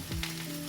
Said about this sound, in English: The spinach is sizzling.